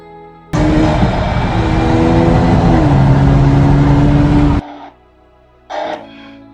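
A car speeds past on a rain-soaked road: a loud, sudden roar of engine and spray that holds for about four seconds and then cuts off, followed by a shorter, fainter burst.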